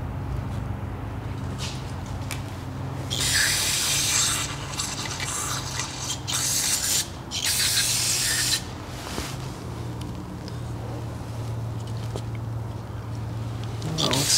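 A steady hiss of spray cleaning out a threaded hole in the front case of a CAT C15 engine comes in several long bursts, loud and close, over a constant low hum.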